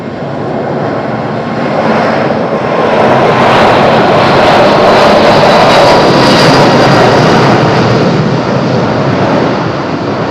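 A fixed-wing airplane takes off from runway 05 at Madeira Island Airport in windy conditions, its engines roaring loudly and steadily throughout, swelling as it accelerates down the runway, with no voices.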